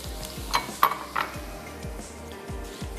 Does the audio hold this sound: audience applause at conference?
no